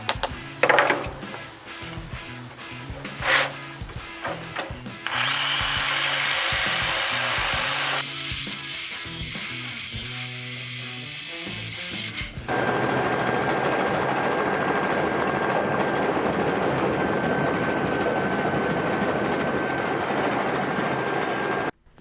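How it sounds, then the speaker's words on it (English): A jigsaw saws through the thin sheet-metal sunroof panel of a Datsun 280Z, starting with scattered knocks and clatter, then a loud, steady buzzing cut that rises to a harsher high-pitched whine before settling into a continuous rasping drone. "Jigsaw it is."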